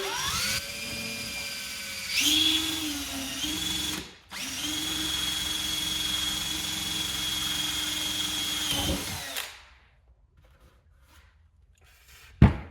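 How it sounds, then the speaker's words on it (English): A high-pitched power drill whines steadily for several seconds as it bores a hole in a gas can with its included bit, briefly pausing once, then winds down into near silence before a short final burst. "I drill the hole with the bit that it came with"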